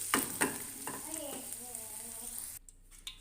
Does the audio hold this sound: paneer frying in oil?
yes